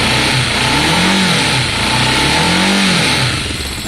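A Kawasaki ER5 motorcycle engine runs steadily and loudly close by, its mid-pitched drone swelling in two gentle revs over an otherwise constant idle, with no talking.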